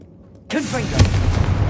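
A Confringo fire spell in Hogwarts Legacy bursts in after a near-silent moment, a loud blast that trails into a crackling, rumbling tail, with some speech mixed in.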